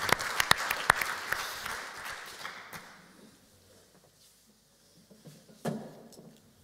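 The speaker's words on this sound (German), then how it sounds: "Herr Miem, ich glaube, Sie verdienen einen großen Applaus für diese wunderbar inspirierenden, tollen Ideen und die positive Energie" Audience applause after inspirational talks at an urban-development event in Leonberg: a dense burst of clapping that is full and close at first, then thins and fades to a quiet room with a few stray sounds.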